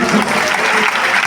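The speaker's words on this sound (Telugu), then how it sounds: "గట్టిగా గట్టిగా చప్పట్లు ప్రారంభిస్తుంది." A church congregation claps loudly and densely in a short, continuous burst of applause.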